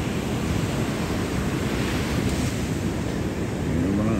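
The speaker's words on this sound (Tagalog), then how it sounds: "yun yung mga alon ng dagat" Sea waves at an open shore wash in as a steady, broad rush of surf, with wind buffeting the microphone throughout and no voices.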